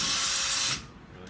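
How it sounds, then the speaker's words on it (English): A power drill whines steadily as it bores through drywall, loud and close for under a second before cutting off into quiet room tone. "I'm going to take a drill,"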